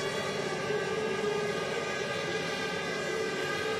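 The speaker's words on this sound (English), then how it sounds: "Engines firing up then, always an exciting moment in a Grand Prix" Formula One cars at the 2004 Hungarian Grand Prix fire up their engines on the grid, a dense, steady, high-pitched whine of several engines idling together at moderate distance, with no voices over it.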